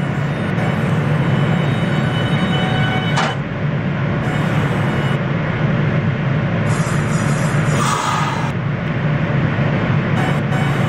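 An R160 New York City subway train on the N line toward Lexington Avenue–59th Street, simulated in the OpenBVE train game, runs with a steady low rumble and whine, with a few brief high tonal chimes and squeals over it.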